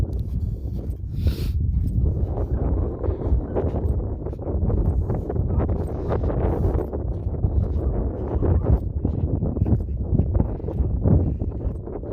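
Strong wind buffets the microphone nonstop during a sunny outdoor walk, a loud, steady low roar with gusty surges and no talking.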